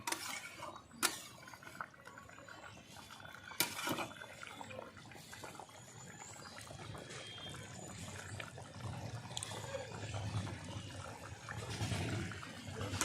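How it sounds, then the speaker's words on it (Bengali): A metal pot lid clanks off as chicken curry with kohlrabi gets stirred, with sharp knocks near the start, then a rising simmering, bubbling sizzle that grows louder toward the end. "আমি একটু মাংসটা একটু নাড়িয়ে দেবো বলে ঢাকনাটা তুলে নিচ্ছি"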